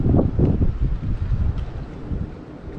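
Wind gusting across the microphone on a boat while sheepshead fishing during the first cold front of the year, a steady low roar that rises and falls in rough buffeting swells, loud and close.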